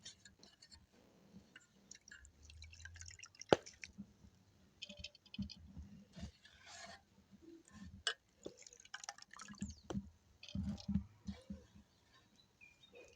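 Soaked flattened rice (aval) being squeezed by hand to press out the water, giving soft, scattered wet squishes, drips and trickles at close range. The sounds come in irregular bursts over a quiet background.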